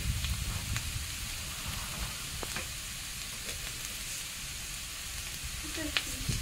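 Potatoes frying in a pan at home, a steady close hiss and sizzle of hot oil with occasional crackles and pops running throughout.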